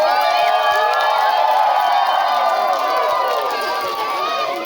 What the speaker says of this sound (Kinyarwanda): amashyi menshi n'impundu